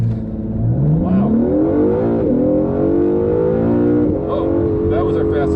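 A 2017 Acura NSX pulls away from a standing start under hard acceleration, its engine note climbing steadily and loudly through the gears, with people talking over it.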